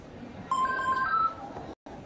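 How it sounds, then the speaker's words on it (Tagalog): A mobile phone sounds a brief electronic tone for an incoming text message, a short run of clear beeping notes heard nearby, followed by a quiet pause. "May nag-text sa'yo."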